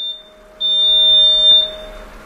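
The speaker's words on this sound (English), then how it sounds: "Why is my driveway alarm going off right now?" A driveway alarm gives a steady high electronic beep that starts abruptly and holds for about a second, then stops, with a faint background hum and no talk.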